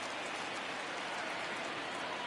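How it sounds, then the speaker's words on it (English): Heavy rain pouring onto a baseball field in a video game, a steady dense hiss of drops with no breaks, constant and fairly close. "I don't know how much more rain this field can take"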